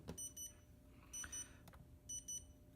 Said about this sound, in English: it's going to beep for quite a while